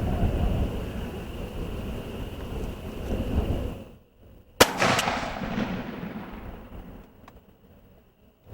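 A shotgun fired at a plywood target 60 yards away: a steady outdoor rumble, then a single sharp, loud blast that rings out and decays over several seconds.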